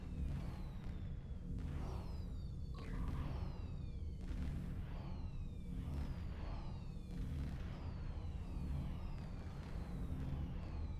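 Starship fireworks in Star Trek Online burst in repeated booming pops with descending whistling streaks, layered over a continuous low rumble that stays loud and steady throughout.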